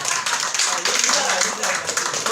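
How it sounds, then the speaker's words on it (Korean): Applause from a congregation at a church baptism gathering in Yeongju, a dense continuous patter of many hands clapping steadily with no pauses. "그 이단이 아니다 해준 거에 대해 오늘 박수 한번 쳐주겠습니다"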